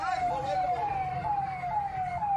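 Fire brigade siren wails at a fire at the Maheshwar grid station, a steady, repeating falling tone heard at moderate distance over a low background rumble.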